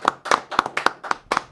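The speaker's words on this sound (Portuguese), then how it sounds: "Palmas para Marcelo Faria." A few people on a podcast set clap, sharp close hand claps in short irregular bursts, crisp and distinct rather than a full crowd roar.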